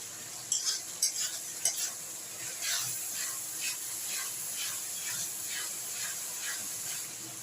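Ginger, garlic and two medium chopped tomatoes fry in a pan for chicken curry, a soft continuous sizzle opened by a few sharp utensil clinks, then gentle stirring.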